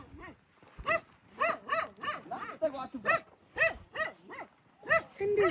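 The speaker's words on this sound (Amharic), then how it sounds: "ይሄ ውሻ እግዚአብሔርን ይነክሳል።" A dog barks repeatedly in quick, sharp woofs with some yips, close and fairly loud, mixed with people talking nearby.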